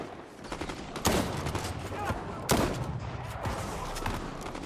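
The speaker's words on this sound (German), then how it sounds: "Bots schießt auf mich und ich wüsste gar nicht wieso" Gunfire from bots in the video game Fortnite comes as bursts and rapid volleys with a few sharp, loud cracks over steady background noise.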